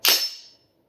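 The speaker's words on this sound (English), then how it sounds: "We're going to send the bolt home." A rifle bolt is pushed forward and locked home on a cleared firearm, giving one sharp, close metallic clack that dies away within half a second.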